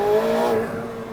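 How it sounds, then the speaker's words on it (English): A 2024 McLaren 750S supercar launches from a standstill, its engine giving a brief loud rising note that fades quickly within about a second. "Okay, first gear, brake, gas. I mean, it got out of the hole pretty quick"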